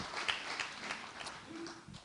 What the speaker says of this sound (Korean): 다시 한번 따뜻한 격려의 박수를 부탁드리겠습니다